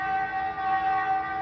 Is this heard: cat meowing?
no